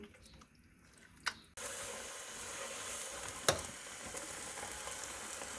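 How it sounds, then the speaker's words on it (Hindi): Spinach and mutton (palak gosht) simmer in a pot, making a quiet, steady sizzle and bubbling that starts after a brief soft clatter and continues evenly, with one small tap partway through. "चार से 5 मिनट मज़ीद पालक और गोश्त को पकाएंगे।"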